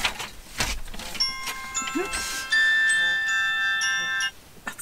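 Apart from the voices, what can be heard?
alarm going off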